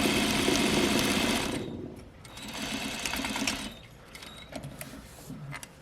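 A sewing machine stitches a half-inch seam on a mock fell seam, whirring loud and fast in a near burst, then slowing into shorter, quieter runs of stitching with small pauses between.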